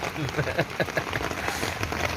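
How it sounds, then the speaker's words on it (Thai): Rain pouring outdoors during a fishing trip, a dense, close patter of drops hitting surfaces, steady and fairly loud throughout. "ตอนนี้ฝนตกแล้วครับ"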